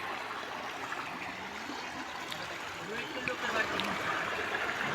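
Fast-flowing village river water rushes steadily past the banks in a broad, continuous hiss that swells slightly near the end, close by and unbroken.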